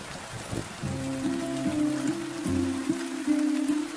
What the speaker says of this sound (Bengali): বৃষ্টিটাও আবার শুরু হয়ে গেল।